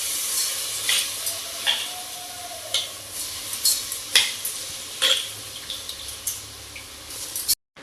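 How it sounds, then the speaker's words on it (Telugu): Washed rice tossed into a pan of fried spices and coriander powder, stirred with repeated scraping strokes over a steady soft sizzle, close and fairly quiet, no talking. "ఇలా అంతా బాగా వేగిన తర్వాత మనం ముందుగా కడిగి పెట్టుకున్న రైస్ వేసుకోవాలి"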